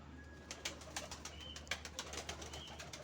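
A pigeon from a rooftop flock makes soft, close calls and fluttering sounds in a quick irregular series over a low steady background hum.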